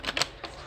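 Oracle cards from a Moonology Manifestation deck are shuffled by hand, giving three quick crisp riffling bursts, close and fairly quiet, with no talk.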